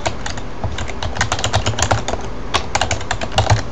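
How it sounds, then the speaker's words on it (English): Rapid, close typing on a computer keyboard as a website address is entered, a steady run of crisp key clicks with brief uneven pauses and no talking. "I would type in um, my website address"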